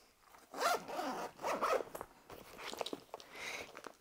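A bag zipper is pulled in several quick, rasping strokes, close by, each a short scratchy burst with brief pauses between.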